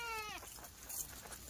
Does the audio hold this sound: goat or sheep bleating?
yes